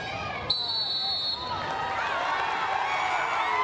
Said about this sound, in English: the crowd cheers because India have gotten a penalty corner